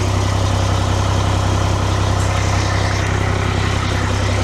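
An ERF truck engine idles in a steady, deep, throbbing rumble, loud and close, with no talk over it.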